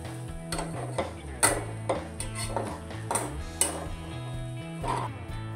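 A corn rice cutlet mixture is stirred in a pan just after the lid comes off, a spoon scraping and clinking against the metal in a series of close, sharp taps over a steady humming background.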